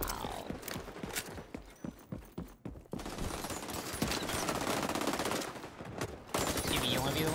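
Gunfire in the video game XDefiant, first a string of separate shots, then dense, sustained automatic bursts, loud and close, with brief talking underneath.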